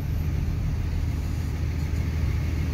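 A car rolls through the tunnel at Atlanta Motor Speedway, giving a steady, enclosed low rumble of engine and road noise that stays constant and close throughout.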